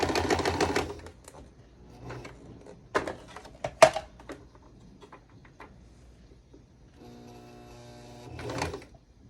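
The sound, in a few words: sewing machine needle hitting something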